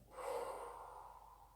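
A slow, steady out-breath through the nose during a gentle yoga exercise, soft and breathy, starting with a brief sharp onset and then tapering gradually over a second and a half, close and quiet.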